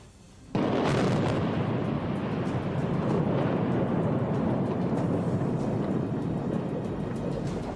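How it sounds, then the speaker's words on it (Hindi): A 9K111 Fagot anti-tank guided missile fires in wartime with an abrupt, loud blast that turns into a sustained, heavy roar lasting several seconds. "जैसे ही हरी झंडी मिली, यूक्रेन ने मिसाइल दाग दी।"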